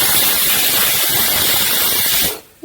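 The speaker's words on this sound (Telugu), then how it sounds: "ఇదిగోండి ఇలా పోతుంది విజిల్ అంతా." Steam bursts from a pressure cooker of mutton curry in a loud, continuous close-up hiss that runs strong and then cuts off abruptly near the end.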